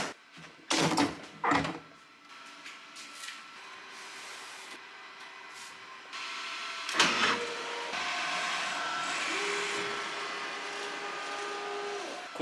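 An Epson F2100 direct-to-garment printer lays a white base layer onto a tri-blend tee, giving a steady mechanical whir and hum with shifting carriage motion, preceded by a few short clunks near the start.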